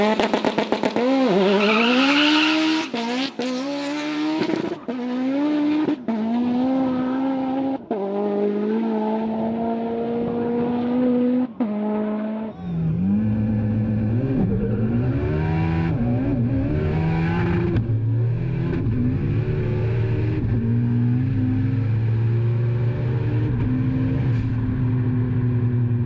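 The Evo drag car screams through a full-throttle pass, revving hard through several quick upshifts with sharp pitch drops between gears, then a deeper, steady drone as it continues at speed; loud and close throughout.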